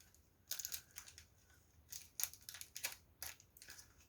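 Plastic packets of screws for a Bugatti Veyron scale model kit being torn and crinkled open, with short, close, faint bursts of crackling and ripping repeating in quick succession.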